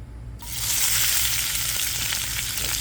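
Peppers, onions and garlic land in hot olive oil in a saute pan and burst into a loud, steady sizzle. Frying noise starts abruptly and stays close and continuous to the end.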